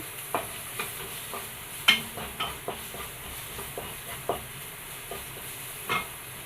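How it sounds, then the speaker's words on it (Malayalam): Curry leaves and chopped green chillies frying in oil for a Kerala chickpea curry, a soft sizzle under a spoon stirring with irregular scraping knocks, close and fairly quiet, without speech. "ഇതിലോട്ട് രണ്ട് മൂന്ന് കുത്ത് കറിവേപ്പില ഇട്ട് കൊടുക്കാം നാല് ചെറിയ പച്ചമുളക് കട്ട് ചെയ്ത് ഇട്ട് കൊടുക്കാം"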